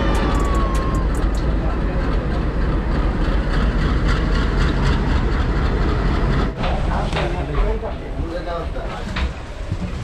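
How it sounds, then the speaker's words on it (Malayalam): A train at Ernakulam South railway station, with a continuous rumbling roll and rattling clatter throughout, brief high squeals and a louder surge near the end, heard up close. "സൗത്ത് റെയിൽവേ സ്റ്റേഷനിൽ ഇറങ്ങി."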